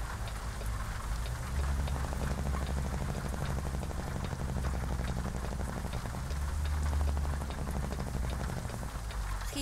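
Steady downpour in the American Truck Simulator driving game, a constant wash of raindrops over a low truck engine drone, unbroken for the whole stretch.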